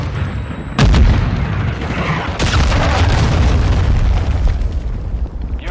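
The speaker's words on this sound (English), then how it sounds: "Hostiles launch the cruise missile." A cruise missile launch in Call of Duty Modern Warfare II, a sudden heavy boom followed by a second blast and a sustained loud roaring rumble, close and powerful.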